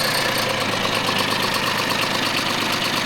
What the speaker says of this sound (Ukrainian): Вже не сапунить, не димить, працює.